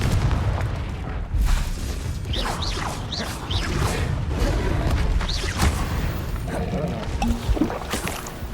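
Booming blasts and crackling impacts from the Confringo fire spell in Hogwarts Legacy roll out over a rumbling game soundscape, with several swelling detonations and creaking debris in a continuous loud mix.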